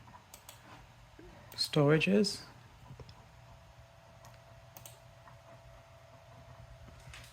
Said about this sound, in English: you could hear the hard drive clicking away